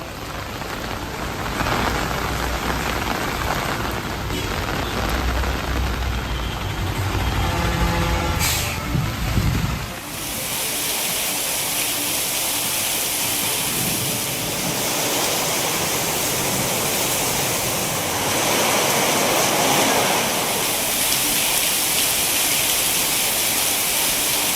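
Steady rain falls in Tamil Nadu, a dense, continuous hiss of drops on surfaces. It grows broader and louder partway through and carries on without any talking.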